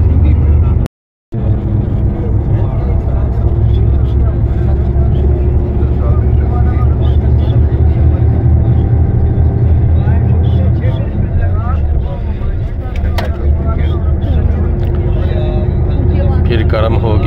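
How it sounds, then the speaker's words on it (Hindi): A car on the road toward Medina gives a steady low engine and road rumble throughout, with a voice speaking over it and one brief dropout near the start. "ये मदीना शरीफ की तरफ गाड़ी जो है वो चल पड़ी है"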